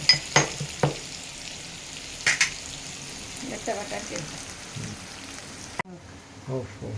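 Chopped onion frying with ginger and garlic in a pan while bitter gourd fry is being made, a soft steady sizzle with a few sharp clinks and stirring scrapes close by.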